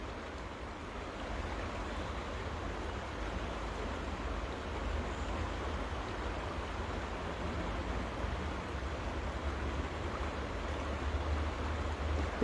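Fast-flowing water in the rain rushes steadily in a broad, continuous wash, heard from nearby and fairly soft, with no voices over it.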